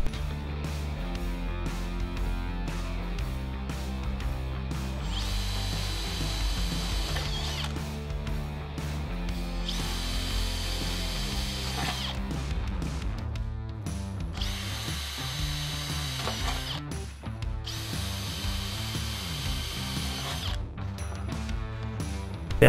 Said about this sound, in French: Percez des trous pour fixer les profilés en U.